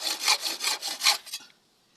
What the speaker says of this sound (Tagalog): Ito ngayon yung bagong talim ng lagaring tiles.